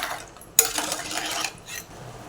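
A utensil scrapes and clinks against a cooking pot as water is stirred into crab curry, with a sharp knock near the start and a few short scraping strokes after it.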